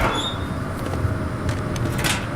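A metal locker is forced open with a pry bar in The Long Dark, giving a short grinding creak and a few dull knocks over a steady low ambient hum.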